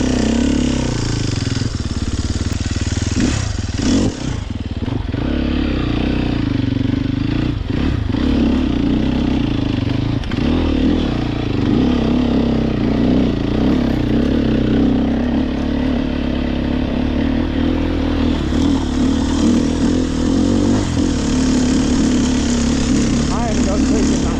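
A 2023 Sherco SEF300 four-stroke dirt bike engine runs loud and close, revving up and down with clattery bursts while people talk over it.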